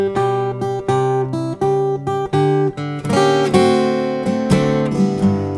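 An electric guitar plays a laid-back blues turnaround lick: a run of separate plucked notes, then a fuller, ringing passage of overlapping notes. It is close, steady and loud, with no talking.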